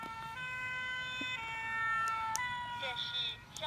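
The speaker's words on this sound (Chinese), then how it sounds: "这是消防车警报器的声音。" Fire truck siren from a children's vehicle sound book, a steady electronic wail with layered harmonic tones playing close and fairly loud for a few seconds, with no speech over it.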